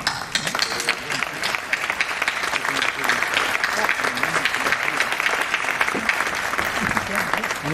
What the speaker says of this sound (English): please stand up so all of us can give a round of applause for your effort and dedication